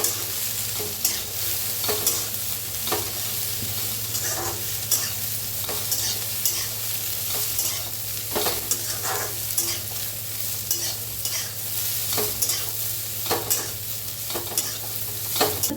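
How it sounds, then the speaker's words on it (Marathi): Cluster beans (guar) roasting in oil in a pan, a steady close sizzle with frequent scraping stir strokes throughout, no talking. "तेल ओतून गवारीला छान असं भाजून घेऊया."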